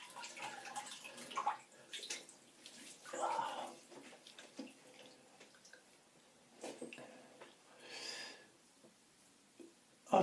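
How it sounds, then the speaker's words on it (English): Cold water splashed onto the face by hand after a wet shave with a Kai Captain replica razor, several short, separate splashing bursts at a sink, close and fairly quiet, with brief pauses between them. "now let's have a drop of cold water on the face"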